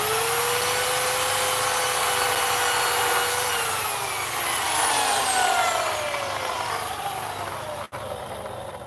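A chainsaw cuts into wood for carving, a steady loud whining drone whose pitch sags and shifts as the blade bites, then cuts off abruptly near the end.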